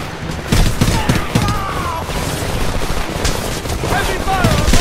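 Automatic rifle fire from the Homefront shooter game crackles in rapid, dense bursts across the whole stretch, with battle noise and soldier voices mixed in underneath.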